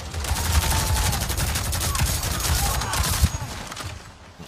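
Rapid automatic gunfire from a shooter game set on Pandora rattles in dense bursts for about three seconds, then fades out near the end.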